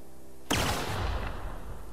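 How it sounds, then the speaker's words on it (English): A loud burst of gunfire in The Outer Worlds, a sudden volley of shots from a burst-fire weapon that rings on briefly before fading, with no talking. "It's a burst shot."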